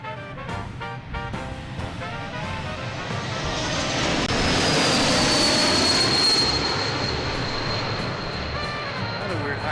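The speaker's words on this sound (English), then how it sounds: "we're back with a JetBlue coming in from New Orleans" A JetBlue jet airliner arriving from New Orleans roars past at an airport, a broad engine rumble that swells to a peak and then holds with a thin high whine.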